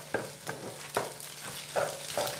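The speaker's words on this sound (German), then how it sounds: "wenn die Eier ein bisschen angestockt sind, dann könnt ihr sie anbraten." Eggs frying in a pan at home while being stirred, giving a steady low sizzle broken by several scraping strokes of the spatula at irregular intervals, close by with no one speaking.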